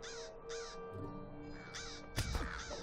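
Crows caw repeatedly in Lord of the Rings Online, several harsh calls in quick succession, fairly close and clear over a soft background, with a brief rustle near the end.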